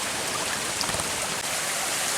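The Jolotundo waterfall rushes from a distance through scrubland, a steady, even broadband roar of falling water with no breaks, alone and without voices.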